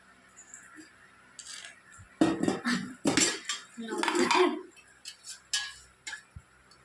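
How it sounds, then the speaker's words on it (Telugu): Metal cookware clanks and scrapes in a burst of knocks and clinks, as a pot is set down and shifted on a stove. "స్టవ్ ఆన్ చేసుకొని పెన్నం అండి గిన్నె పెట్టుకున్నా"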